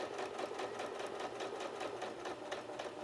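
A sewing machine on a standard stitch runs steadily while stitching a raw-edged appliqué, giving a fast, even mechanical chatter that sounds soft and close, with no talking.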